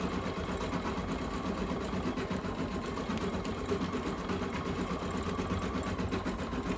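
An embroidery machine stitches a design onto a reading pillow, a steady continuous mechanical whir with fast regular needle chatter throughout, close and alone with no talk.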